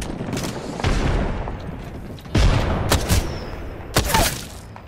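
A grenade explosion and gunfire ring out in a first-person shooter game: several sharp, loud blasts and bursts of shots, each trailing a reverberant rumble, over a constant background din.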